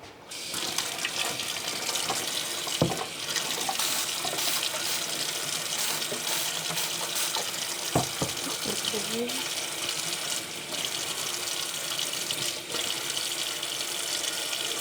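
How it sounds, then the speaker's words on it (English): Running tap water rinses a polished soft 3D printed nightguard, a steady close gush with occasional knocks and splashes as the piece is handled under the stream. "you want to give it a good rinse and get out all the red marks"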